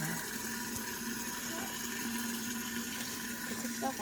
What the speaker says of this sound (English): Putting water in the jar.